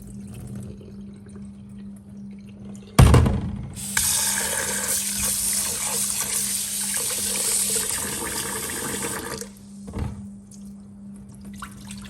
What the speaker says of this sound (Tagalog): So, isang beses o dalawang beses natin ihugasan.